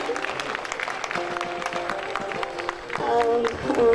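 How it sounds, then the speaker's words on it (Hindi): An audience at a school event claps loudly and continuously, the crowd applause swelling near the end while a voice carries faintly through it. "एक बार फिर मेरी तरफ से इनके लिए जोरदार तालियां बजा दीजिए।"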